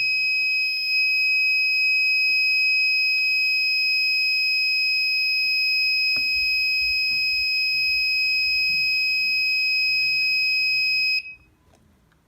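A shrill, steady electronic gas alarm tone from an ESP32/ESP8266 smart home system blares loudly and continuously for about eleven seconds, then cuts off abruptly, leaving faint background noise.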